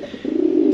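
A single short, close coo from a racing pigeon, a low soft rolling call that swells and holds for under a second.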